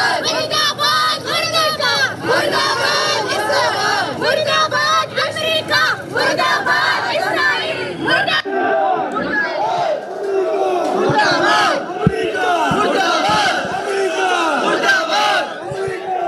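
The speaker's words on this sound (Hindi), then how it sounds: "यहाँ पर अमेरिका मुर्दाबाद के नारे लगाए जा रहे हैं" Large crowd of protesters, including women, chanting anti-America slogans in loud rhythmic unison, with shouted calls and a brief drop in the chant midway before it picks up again.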